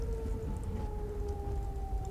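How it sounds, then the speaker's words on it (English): A tornado siren in the video game Garry's Mod wails as a long steady tone with a faint slow downward drift, distant-sounding over a low rumbling background. "there's some tornado sirens going on, which means tornado"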